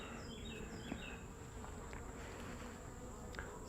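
Honey bees of a tiny swarm buzzing faintly on an open hive frame, a soft constant drone with occasional brief higher buzzes passing nearby.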